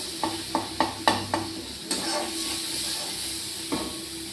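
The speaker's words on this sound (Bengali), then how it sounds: "মশলা আমার প্রায় কষানো হয়ে গেছে" Spice masala being stir-fried in oil in a pan: a run of five or six rhythmic scraping stirs, then a louder steady sizzle, with one more stir near the end; close, no talking.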